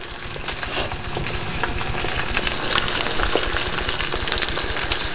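Salmon, peppers, onions and garlic sauté-fry in a pan with a steady, close sizzle and crackle that holds loud and even throughout, with no voices over it.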